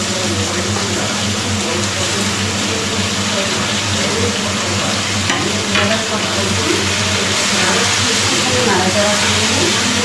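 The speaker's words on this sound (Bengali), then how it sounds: "এবারে আমি দেবো কেটে রাখা সব সবজি।" Chopped mixed vegetables sizzle steadily in hot oil while being stirred in a pan, a loud, continuous frying hiss, with a voice talking over it at times.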